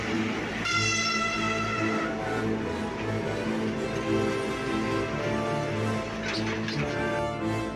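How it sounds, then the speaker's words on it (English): A train roars past with a long, loud horn blast, the rumble of the cars and the horn dominating throughout. "a fast-moving train rushes in, unable to slow down or stop in time"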